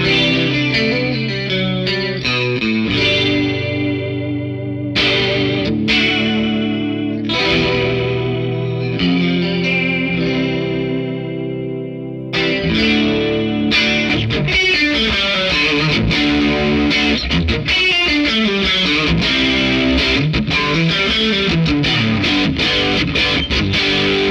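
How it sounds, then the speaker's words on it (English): An electric guitar plays a run of chords and single notes through a shimmering chorus effect, with a thick, warbling tone and steady volume. "So you can hear that chorus."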